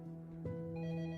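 A telephone rings, a short electronic ring with steady tonal harmonics entering partway through, fairly clear over a low hum.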